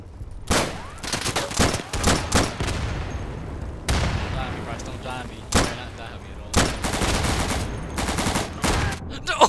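Gunfire in the video game Insurgency: Day of Infamy comes as loud, rapid bursts of automatic shots and blasts, clustered with short pauses between volleys.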